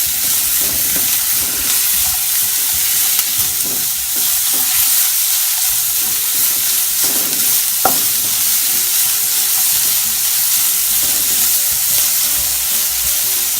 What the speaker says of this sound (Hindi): अब इसमें हम ऐड करेंगे गाजर, इसे भी हम सौते कर लेंगे।